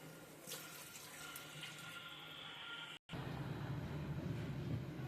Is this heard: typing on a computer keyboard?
no